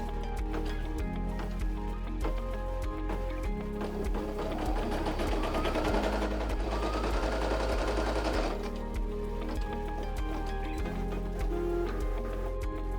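A Brother PE 900 embroidery machine stitching steadily, a fast even mechanical whir and tick that runs throughout, with a denser buzzing burst midway, no talk over it.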